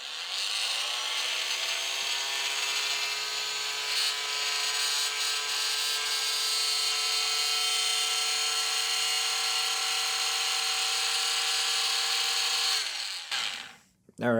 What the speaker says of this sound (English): Multi-tool from HyperTough, Walmart. Let's see what it has on minimum speed.